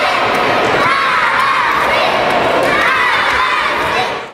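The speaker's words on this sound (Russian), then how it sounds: "На протяжении всех соревнований спортсменов активно поддерживали болельщики." Fans cheer at a children's football match, a loud continuous roar of crowd voices with high children's shouts and whoops, sustained at full strength before cutting off abruptly at the end.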